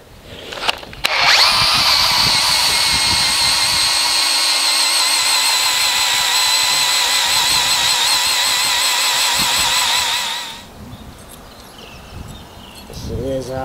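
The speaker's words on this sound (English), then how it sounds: "So we just finished drilling out this hole here." A power drill bores a hole through a roof rafter on an off-grid earthbag workshop roof, a loud, close, continuous whine lasting about ten seconds after brief knocks, then dropping away to quieter handling noise.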